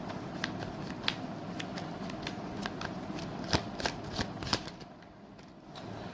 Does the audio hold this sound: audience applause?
no